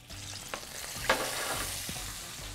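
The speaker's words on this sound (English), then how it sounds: "The bacon is baconing." Bacon sizzles in a pan while frying, a soft continuous hiss and crackle with a light stir or scrape, fairly quiet and close, no voices.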